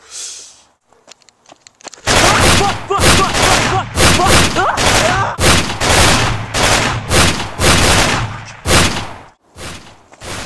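Gunfire in a 2v2 video game shootout: loud, rapid bursts of automatic shots crackling almost continuously, with short gaps, up close after a quiet start, with players' voices mixed in.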